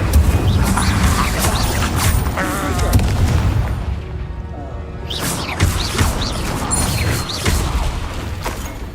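An Incendio fire spell cast in the Hogwarts Legacy video game bursts out as a dense rush of booming, crashing effects that dip briefly, then surge again.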